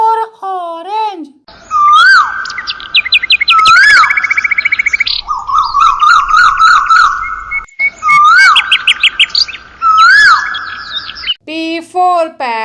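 A parrot's loud whistled calls and chirps, repeated in short rising bursts with trilling notes between them, close and clear and carrying on without pause.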